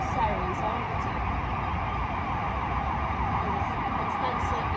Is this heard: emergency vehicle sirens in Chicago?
yes